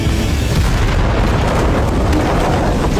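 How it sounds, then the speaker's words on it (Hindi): A bomb going off at a cave: a loud, dense roaring rumble that fills the whole stretch without a break, with no voices. "जैसे ही बम फटा"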